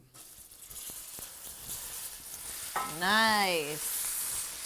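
Meat frying in a pan with golden garlic, a steady close sizzle that grows louder partway through, while a voice briefly speaks over it.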